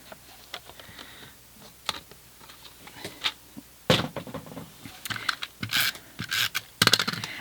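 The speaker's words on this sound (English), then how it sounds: "So I'm just going to trim that down to 6 centimetres." Paper being trimmed to size for a handmade gift box, a run of close, sharp clicks and cutting snaps that grow busier and louder toward the end, no talking.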